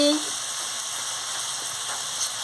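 Raw pumpkin is sautéed with chili powder in a pan, giving a steady, close, moderate frying hiss with faint stirring.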